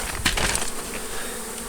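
Honey bees buzz steadily and close at a hive being removed from under a house, a dense continuous drone with a few brief scraping knocks near the start.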